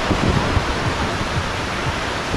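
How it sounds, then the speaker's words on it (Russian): Sea surf washing ashore at Rawai beach on Phuket, a steady broadband roar of breaking waves with no pauses, close and fairly loud, no voices. "Давайте я вам пока море покажу."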